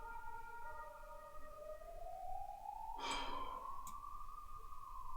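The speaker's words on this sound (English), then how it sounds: "We have like the loudest ambulances in the world in this country." A loud ambulance siren on a street in Hungary wails in a slow rising tone, heard alone from a moderate distance, with a short burst of noise partway through.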